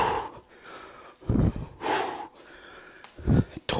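Forceful exhalations during a live workout session, three loud breathy bursts with a snorting, wheezy edge, spaced about a second apart, close and alone with no talk over them.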